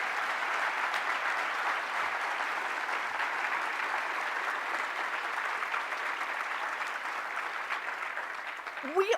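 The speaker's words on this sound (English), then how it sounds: "Round of applause for Rich." Steady, sustained applause from a large crowd, continuous and even throughout without a break.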